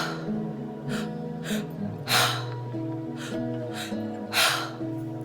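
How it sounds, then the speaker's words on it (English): Breathwork breathing comes through here, a two-step inhale through an open mouth filling the stomach then the chest, followed by one full exhale. Two loud, breathy rushes stand out against a steady tonal background that sounds like music. "it's a 2-step inhale followed by a 1-step exhale"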